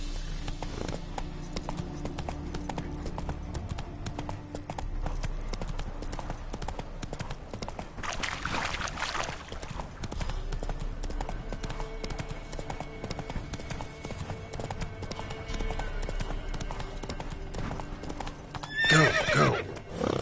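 Hooves clip-clop steadily as a horse runs in The Witcher 3, with a whinnying neigh near the middle and another burst toward the end, under continuous game ambience; a voice speaks briefly.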